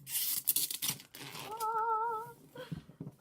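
Scissors snip and tear plastic shrink wrap from a Dice Throne Season 1 board game box, with faint crinkling and ripping, a brief tonal squeak in the middle, all quiet and close.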